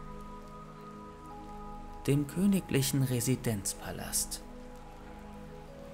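Steady rain falls in the streets of old London near Buckingham Palace, a soft continuous hiss that runs the whole time while a calm voice narrates over the middle stretch.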